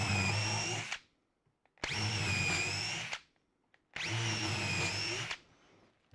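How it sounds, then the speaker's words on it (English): A power drill whirs loudly in three bursts of about a second each, boring into wood, with short quiet pauses between. "Love this drill."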